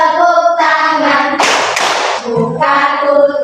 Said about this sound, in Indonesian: bertepuk tangan.